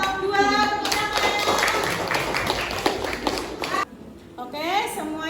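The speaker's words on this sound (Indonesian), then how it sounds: "Tepuk tangan untuk kelompok 2" A class of schoolchildren bursts into clapping for a presenting group, a lively patter of small hands that stops abruptly, with children's voices chattering over it.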